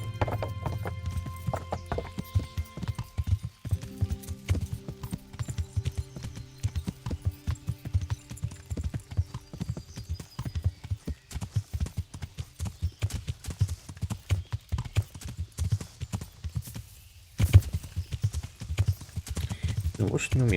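Horse hooves clip-clop steadily across the ground in the medieval game Kingdom Come: Deliverance, a fast, even trot that runs the whole time with a brief pause near the end, while someone talks over it.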